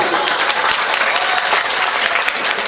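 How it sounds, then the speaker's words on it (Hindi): An audience at a mushaira poetry gathering in Deoband claps loudly and evenly. The thick, continuous applause comes from a large crowd and carries through the whole moment with little else heard. "अभी ये एक बार ताली बजा के जरा हुक्म दे दें आप लोग"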